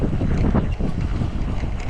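Wind in Las Vegas on a warm morning buffets the microphone outdoors, a steady low rumbling roar with gusty swells and no voices.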